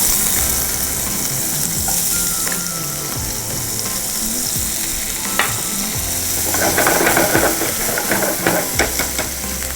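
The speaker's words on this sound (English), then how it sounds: "So I will add approximately 3 small spoons of cooking oil, followed by I will add chopped onions" Chopped onions fry in cooking oil for a dal kachori filling, giving a loud, continuous close sizzle with occasional stirring scrapes and clinks that grow busier toward the end, with no talk.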